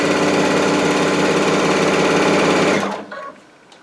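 A Baby Lock Altair sewing machine stitches quilt binding in a steady, fast, loud whir close by, running continuously before stopping abruptly near the end, leaving a faint quieter tail.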